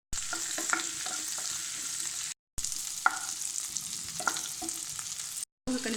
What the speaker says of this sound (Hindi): वही गरम कढ़ाई में 2 चम्मच तेल दऽ कऽ आलू के कनि काल भुजै ला छोड़ दै छियै।